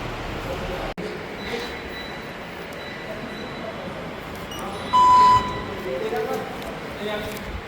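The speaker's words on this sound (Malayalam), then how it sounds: "അങ്ങനെ നമ്മൾ മെട്രോയിലാണ് പോകുന്നത്." A Delhi metro train rolls along with a steady rumble and hiss inside the carriage, a brief electronic tone partway through, and people talking faintly over the running noise.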